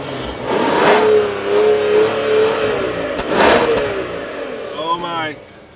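A 2014 Rolls-Royce Wraith accelerates with a smooth, restrained engine note that rises steadily, fairly subdued for the car, while a person talks over it throughout.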